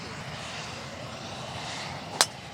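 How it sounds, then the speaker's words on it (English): Turbine-engined aeroplane passing low over a golf course near an airport, a broad steady engine roar filling the whole clip at moderate loudness, with a short sharp click near the end and no talk. "It's this aeroplane aiming straight at us with its turbine engines."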